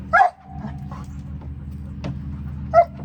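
A dog barks during rear-foot targeting training, two sharp barks at the start and end with a soft whine between them, close and loud over a low steady hum.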